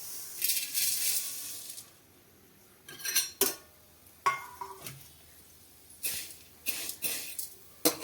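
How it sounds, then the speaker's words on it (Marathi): Vermicelli roasting in ghee in a kadai, heard as bursts of scraping and clattering from a spoon stirring against the pan, separated by quieter gaps, close and without speech. "त्यामध्ये छान पैकी अशा गोल्डन कलरच्या शेवया भाजून घेणार आहोत"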